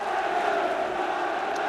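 A restless football crowd at a QPR versus Manchester United match, a dense, sustained roar of many voices in a stadium, steady and fairly loud with no single sound standing out.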